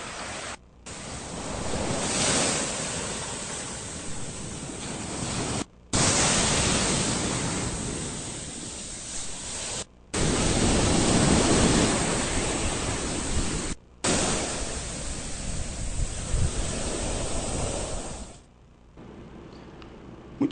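Sea waves at Prado beach where the ocean has pushed into the Jucuruçu river area, a loud continuous roar of surf broken by a few abrupt cuts, with no voices.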